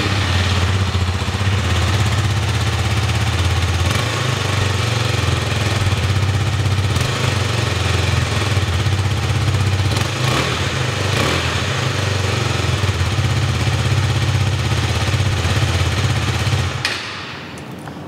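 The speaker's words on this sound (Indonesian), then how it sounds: "Nah, kita akan coba nyalain mesinnya ya." A Husqvarna Svartpilen 250 motorcycle engine runs at a steady, loud idle nearby, with a constant low rumble that continues unbroken for about seventeen seconds and then cuts off abruptly.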